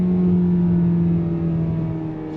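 Engine note of a 2025 Kia Soul as it accelerates while the driver shifts manually with the lever, a steady loud hum that rises in pitch and then eases slightly near the end, with no talking.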